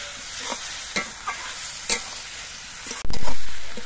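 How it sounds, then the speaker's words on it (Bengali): Vegetables and spice paste sauté in a pan with a soft steady sizzle, marked by a few scraping stirs and then a sudden loud surge of frying hiss near the end. "এবার এই মশলাটা দিয়ে আর সবজিগুলো দিয়ে কিছুক্ষণ কষিয়ে নিতে হবে।"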